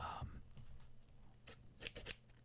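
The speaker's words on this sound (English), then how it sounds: "back to the scissors." Scissors snip repeatedly in short, crisp bursts, close and fairly quiet, with a few quick cuts clustered near the end.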